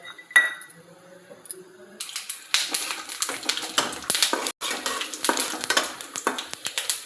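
Peanuts poured into hot oil in a kadai, a clatter then steady crackling fry with repeated scraping and stirring of the pan, close and busy.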